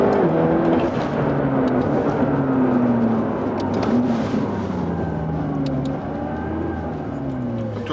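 A McLaren MP4-12C's engine pulls hard through the low gears while driving, a loud, steady drone whose pitch climbs and falls with each gear, sustained close up throughout with no talk.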